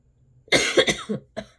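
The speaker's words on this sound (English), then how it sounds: "Pardon my coughing." A person coughs in a quick burst of several harsh coughs, then pauses briefly before one final cough, close and fairly loud against a quiet background.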